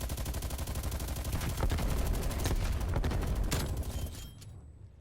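A Stoner 63 light machine gun fires in Call of Duty: Black Ops Cold War, a long sustained burst of rapid automatic shots, loud and close, ending abruptly.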